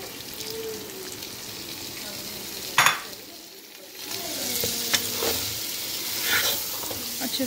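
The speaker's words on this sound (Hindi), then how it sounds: "अच्छे से भून लेंगे अब इसको 3 से 4 मिनट चिकन को।" Chicken pieces sizzle and fry in masala in a pan for a potato chicken curry while a spoon stirs and scrapes through them, with a steady close hiss, occasional louder clinks and no talk.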